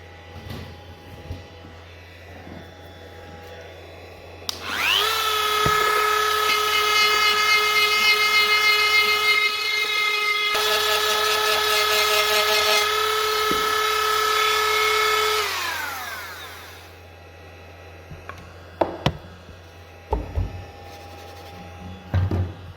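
A fine rotary burr cutter whines loudly and steadily for about ten seconds while carving an ash bowl, then winds down in pitch; a few sharp knocks follow in the quiet.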